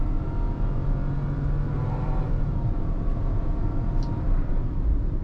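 A 2025 Nissan Magnite with its 1-litre turbo petrol engine accelerating hard at full throttle during a night overtake, heard from inside the cabin as a steady low engine drone and road rumble, with no voices.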